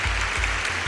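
A brief applause sound effect dropped into a podcast, a loud burst of crowd clapping lasting about a second, with a rhythmic low thump pulsing underneath.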